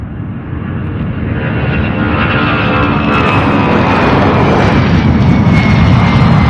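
An Allegiant airliner in the Together We Fly special livery taxis at Louisville airport, its jet engines a loud, steady roar that swells gradually as it prepares to turn.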